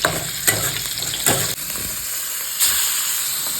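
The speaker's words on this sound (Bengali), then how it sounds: "এখন আলু ভাজতে বসিয়েছি" Potatoes fry in hot oil in a pan, a loud close sizzle with broadband hiss and sharp bursts at intervals as the pieces are stirred and turned, continuous and without talk.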